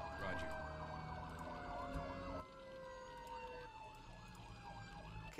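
A wailing fire engine siren from the Emergency 4 game, set in a Boston mod with a building fire, sweeps up and down in steady cycles, loud and close, with a second siren tone joining partway through.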